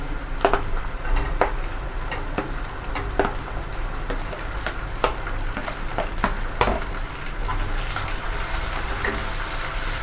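Chopped onion frying in oil with garlic paste, cumin seeds and torn dried chilli, a steady continuous sizzle with occasional stirring clicks and scrapes of a spoon throughout.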